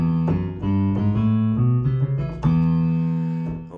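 Excerpt of an instrumental interlude from a rock song, with chordal band hits and sustained guitar and bass tones shifting in rhythmic steps, loud and continuous with no talking.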